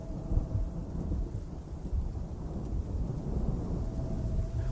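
Heavy rain pours steadily under low, rolling thunder in an animated night scene, a dense continuous roar with deep rumbles throughout and no voices.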